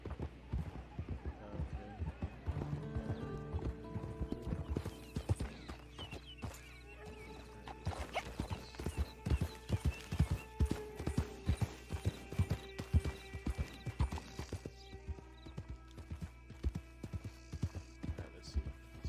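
Rhythmic hoofbeats of a galloping horse in the video game Red Dead Online clatter throughout, with a brief whinny and a voice talking over them.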